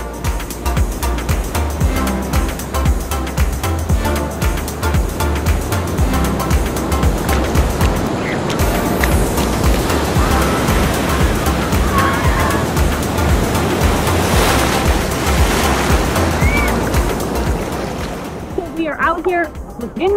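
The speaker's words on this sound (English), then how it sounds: "The waves are pretty crazy." Ocean waves surge and crash continuously on a Cancun beach with a loud, broad roar and occasional splashes.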